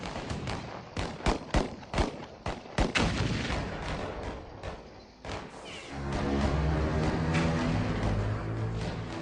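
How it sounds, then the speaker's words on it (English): Turkish commandos fire automatic weapons at Doomsday Mountain in a rapid series of sharp, loud cracks and thuds. Heavier rumbling and echoing blasts follow toward the end. "The thunder of gunfire rocks the walls of Doomsday Mountain"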